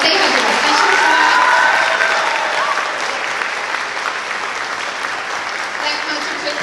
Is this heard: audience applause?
yes